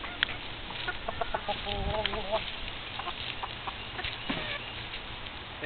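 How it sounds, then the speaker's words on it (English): A rooster among chickens clucks and crows in short, scattered bursts over steady outdoor background noise, fairly faint and close by. "Crow for us again, boy."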